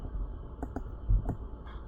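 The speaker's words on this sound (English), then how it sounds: "hit Alt and then click with your right mouse" A computer mouse clicks several times in quick, irregular succession at close range, sharp faint taps over a quiet background hum with no voice.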